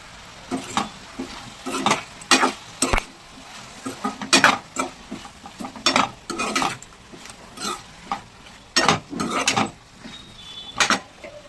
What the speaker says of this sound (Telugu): ఇప్పుడు ఫ్లేమ్ హై చేసుకొని మధ్య మధ్యలో కలుపుతూ ఫ్రై చేసుకోవాలి